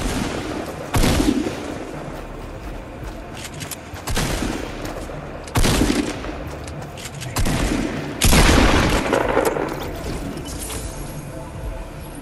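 Bursts of gunfire in the Fortnite video game, several loud volleys spaced a few seconds apart over a constant noisy bed, with no talking.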